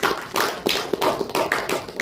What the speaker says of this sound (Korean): 우리 한번 박수 합시다